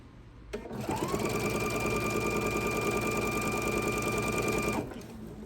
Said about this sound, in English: we're going to sew the scant 1/4 of an inch all the way down to this bottom corner